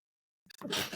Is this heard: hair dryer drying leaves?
no